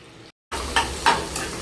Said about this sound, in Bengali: এবার কচুটা ভাজবো।